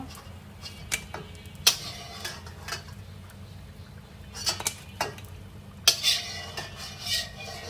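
Metal utensils clink and scrape against a pan as freshly fried food is lifted out in a home kitchen, with sparse sharp taps spread over a quiet background.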